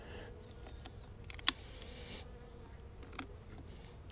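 Bees buzz faintly around a hive entrance blocked by dead bees, a soft steady hum of insects flying close by with a couple of brief clicks, and no one talking.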